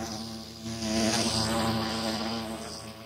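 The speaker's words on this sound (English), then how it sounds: "Bees have a sound loop when they're just flying around." Continuous droning hum of Minecraft bees buzzing as they fly around, the pitch wavering slightly and swelling in the middle.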